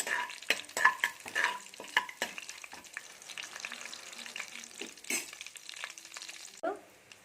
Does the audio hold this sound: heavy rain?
no